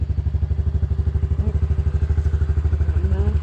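A child's small motorbike engine runs close by, its low, steady throb pulsing in a fast even rhythm that holds for the whole stretch, with faint clatter and no voices over it.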